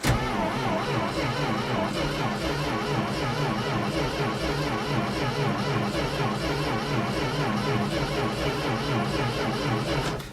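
A 1973 Dodge W200 truck's engine started cold, running with a steady loud rough idle throughout, a continuous low mechanical drone without voices.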